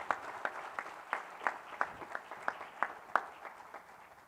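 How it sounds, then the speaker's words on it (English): Audience applause at a business award event, sparse and fairly thin, with a dozen or so distinct claps in an even rhythm from a small group, fading toward the end. "So let's give a round of applause to Mr."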